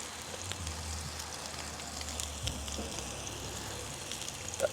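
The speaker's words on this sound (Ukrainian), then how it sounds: "Шипить класно. Мені подобається цей звук." A Japanese A5 Wagyu ribeye steak sizzles as it fries, giving a steady close crackle with small pops that continues evenly for several seconds, with no talking.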